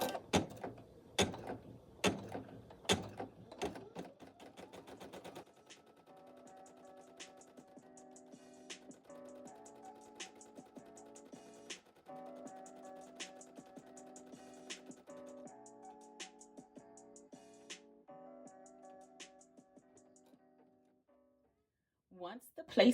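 An embroidery machine sews a placement stitch on a shirt held in a 5x12 hoop, a steady run of fast rhythmic mechanical ticking and whirring after a few sharp clacks at the start, fairly close and alone.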